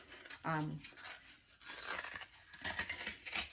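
Cardboard toilet paper tubes are torn apart by hand into long strips, giving several close, rough ripping and crinkling bursts while a person talks.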